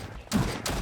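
Two sharp bursts of gunfire from a slow-firing weapon in the video game Cosmic Dawn, close and fairly loud, with a short gap between them.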